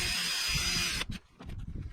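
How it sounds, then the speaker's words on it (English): A power drill bores into a piece of wood with a loud, steady whine for about a second, then cuts off abruptly, leaving a few faint clicks and handling knocks. "you just saw me drill it"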